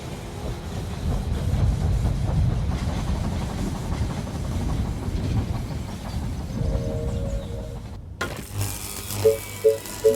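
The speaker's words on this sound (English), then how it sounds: "The train has arrived at the station." Train pulling into a station in the They Are Billions strategy video game, a steady rumbling clatter of rail wagons that runs for several seconds before cutting to brief interface tones.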